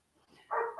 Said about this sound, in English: he's got the dog barking